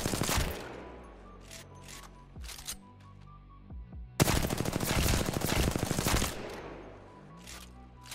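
Gunfire in the video game Apex Legends: several short bursts of rapid automatic shots, then one long sustained spray of fire, loud and close with no voices.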